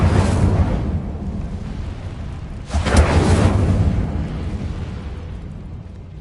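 A fire spell cast in a video game: a loud whooshing burst that swells around the third second, over a steady low rumble, with no speech.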